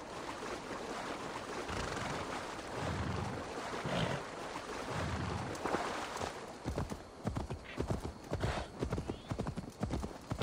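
Horse hooves pound in a steady rhythm in the video game Assassin's Creed Valhalla, close and loud over a busy ambient bed, with sharper clattering footfalls toward the end.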